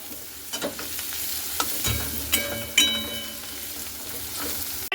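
Taro stolons (kochur loti) are stirred in a frying pan over a steady low sizzle, with a few scraping strokes and one sharper clatter of the utensil against the pan.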